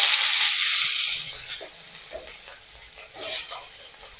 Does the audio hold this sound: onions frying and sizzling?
yes